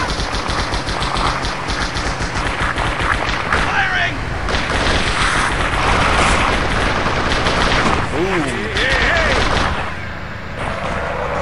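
Dense, loud gunfire in the Halo SPV3 game, with rapid automatic bursts layered over a constant din of battle and game voices for the whole stretch.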